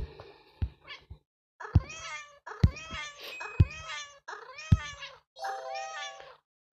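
A cat character in the Cat Evolution video game meows about six times in a steady series, each call short, close and clear, with brief pauses between them.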